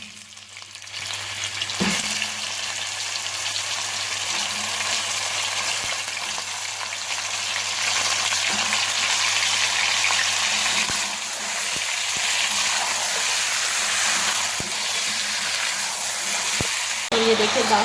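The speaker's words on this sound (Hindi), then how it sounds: "ये देखिए 10 मिनट हो गए हमें चिकन को भूनते हुए" Chicken, garlic and ginger for Peshawari charsi karahi fry in a pan, giving a steady close sizzle and crackle with occasional stirring clinks throughout.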